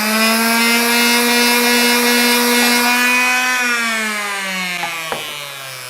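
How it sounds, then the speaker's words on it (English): A power sander works over a wooden wine stand with a loud, steady, tonal whine that holds even, then sags slightly in pitch near the end, heard alone at close range. "And then it'd be a good idea to hit that with a sander."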